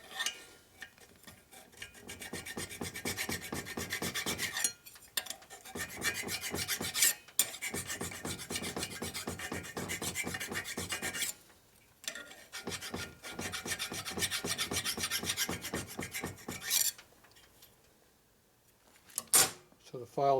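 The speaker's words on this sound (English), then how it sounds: "I don't like filing on parts that are already assembled." A hand file rasps against the assembled top end of a 1958 Harley-Davidson Panhead 74ci motorcycle, steady back-and-forth strokes in long runs broken by short pauses, close and fairly loud.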